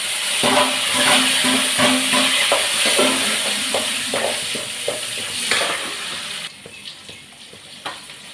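Spices sizzle in hot oil during tempering for a South Indian fish curry. Close, steady frying hiss with stirring clatter, fading toward the end into sparse crackles.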